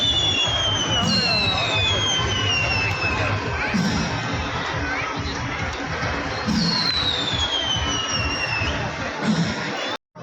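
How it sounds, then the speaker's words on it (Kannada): Firecrackers crackle and whistle at the Polali temple festival amid a noisy crowd, with rising whistling streaks and scattered pops over constant chatter and shouting children. "ಇದು ಪಟಾಕಿ ಎಲ್ಲ ಸ್ಟಾರ್ಟ್ ಆಯ್ತು ನೋಡಿ"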